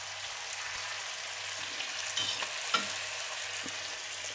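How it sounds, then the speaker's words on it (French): A pan of pork shoulder with thyme and oregano frying steadily, a soft continuous sizzle with a few quiet scrapes and clicks of stirring, heard alone. "On remue."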